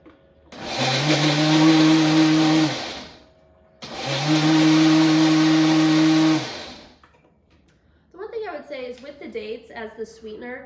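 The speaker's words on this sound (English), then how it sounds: "we'll blend this up" Countertop blender whirring through a breakfast smoothie with flaked coconut, two loud steady bursts of about three seconds each with a brief pause between, followed by someone talking.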